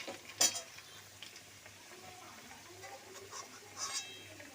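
Fried potatoes being lifted out of hot oil in a pan, with soft spoon scrapes and a couple of louder clinks over a quiet, steady sizzle.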